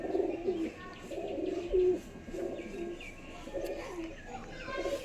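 Madras tournament pigeons coo in repeated rounded phrases, about five cycles, moderately close and fairly loud, with faint chirps and background noise underneath.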